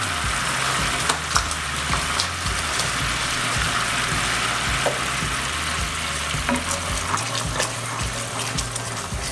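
Knobs of butter melting into a beef short rib pan sauce, a steady, loud sizzle and crackle with scattered pops and light stirring, continuous throughout with no talk.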